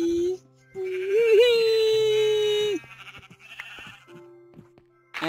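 Sheep in Minecraft giving one long, wavering bleat at close range, followed by a short low tone and some faint clicks and game sounds.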